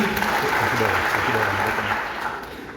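A church audience claps for an honoured guest, a dense steady round of applause mixed with murmuring voices, fading slightly toward the end.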